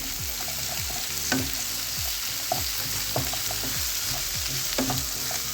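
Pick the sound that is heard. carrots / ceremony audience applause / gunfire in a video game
carrots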